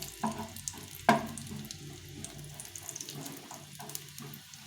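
Cashews for a semolina payesh garnish fry in a pan with a steady close hiss, broken by a couple of short clinks near the start.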